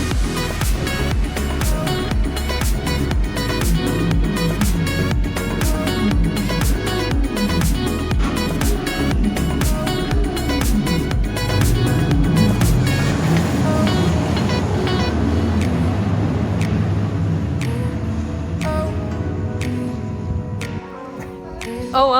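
A ride on the Velocity roller coaster at Flamingo Land, a loud continuous rumble and rattle of the train on the track with rushing wind, fading to a quieter roll near the end.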